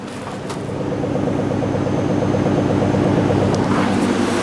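A Ford F-150 pickup truck's engine runs again after sitting unstarted for three and a half years, idling steadily with a loud, rhythmic low rumble that swells slightly after the first second and holds close and even.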